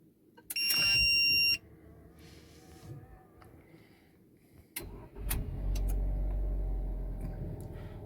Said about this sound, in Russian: Все, машина успешно запустилась. Завелась.